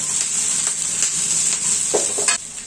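Green chillies and other ingredients sizzle and fry steadily in a pan for Hyderabadi paneer, with a loud continuous hiss and scattered clinks and scrapes from stirring.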